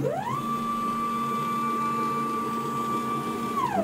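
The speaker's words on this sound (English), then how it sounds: "this allows me to move the spindle to wherever I like" A CNC router gantry jogs its spindle across the bed during a job routing 12mm Perspex sheet, stepper motors whining at a steady pitch that ramps up, holds for several seconds, then ramps down, close and alone.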